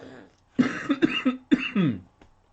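A short cluster of throaty coughs, three or four quick bursts close to the microphone, with no other sound around them.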